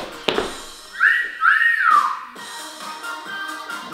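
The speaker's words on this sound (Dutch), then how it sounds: "Fluit tussen je tanden." Someone whistles through their teeth: a sharp click, then two bright rising-and-falling whistled notes, close and loud, followed by quieter background sounds.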